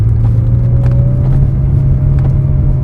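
A 2004 Ferrari 360 Spider with about 10,000 miles circles tightly in donuts, its engine holding a loud, steady low drone with a faint rising whine running through it.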